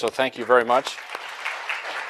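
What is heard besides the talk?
audience applause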